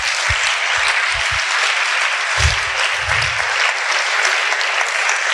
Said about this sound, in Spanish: Hay que darle un aplauso a ellos tres.